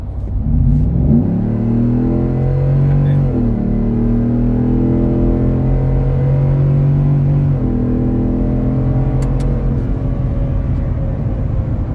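A 2018 Ford F-150 single cab with its 5.0 V8, fitted with a catback exhaust and tune, revs loudly and close up, its deep rumble climbing and falling through several sustained pulls with no voices over it.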